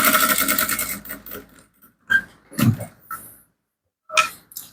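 Sewing machine stitching fabric for an Anakra top, a close rapid mechanical whirr at first, then short separated bursts of stitching with pauses and small handling noises between them.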